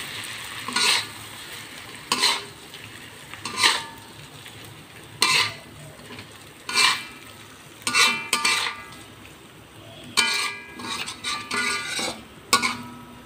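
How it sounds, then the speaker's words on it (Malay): Fried sardines being stirred into sambal in a pan after the heat is switched off, a spoon scraping and clinking in about ten separate strokes with faint residual sizzle between them, close and alone. "Kita kacau perlahan-lahan ya."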